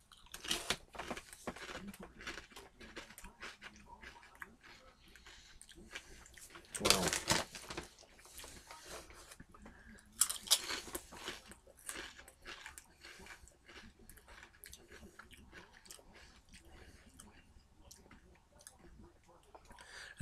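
Someone crunches Shearer's bacon cheddar potato chips close to the microphone, with a few loud bites followed by quieter chewing and scattered clicks, without speech.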